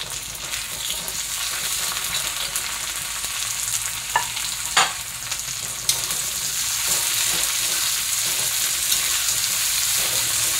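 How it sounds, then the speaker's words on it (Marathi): Onion and tomato sauté in a pan for a green pea thecha, giving a steady, close sizzle with a few soft stirring knocks and scrapes and no talking. "आता आपण त्याच्यात टोमॅटो टाकूया।"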